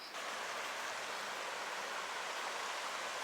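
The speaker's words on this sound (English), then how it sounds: "So what is this mighty river behind us with all those rapids?" Steady, dense rushing of water from the rapids of the Congaree River, a continuous broadband roar with no breaks, heard at moderate distance and alone.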